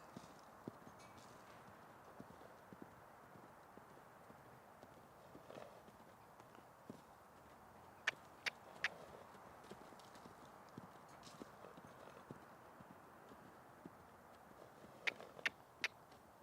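Horse walking in a yard, with steady clip-clop hoofbeats and occasional sharper strikes standing out against a quiet, faint background.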